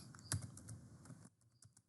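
Quiet keystrokes on a computer keyboard during road cross-section design software work, a short run of light clicks with one firmer tap, then a few sparse faint taps, no voice over them.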